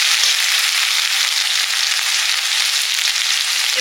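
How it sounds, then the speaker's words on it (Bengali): Potato for chops fries in oil with turmeric, garlic paste and ginger paste, giving a loud, dense, continuous sizzle close by with no pauses and no voices. "চপের আলুটা কষে নেব, একটু হলুদ দিয়ে রসুন বাটা দিলাম"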